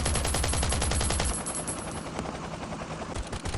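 Rapid automatic gunfire rattles in Last Island of Survival, a close, loud stream of shots aimed at a helicopter, with a short pause before scattered bursts continue alone.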